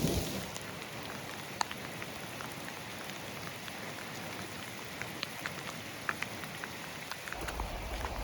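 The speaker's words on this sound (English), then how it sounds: "I'll wait for the hail to chill out a little bit." Hail falls steadily during a mountain hike on the Lawn Lake Trail near Hagues Peak, a dense, close pattering of small hard hits with occasional sharper clicks, continuous and alone with no talk.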